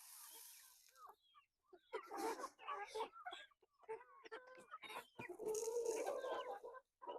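On a small farm, a mother hen and her young chicks cluck and peep softly in scattered bursts, while a person talks at intervals between the calls.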